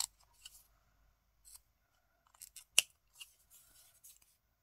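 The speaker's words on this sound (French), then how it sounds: "On va venir couper l'excédent." Scissors snip off excess card while making a small collage art card, several short crisp cuts with quiet pauses between them.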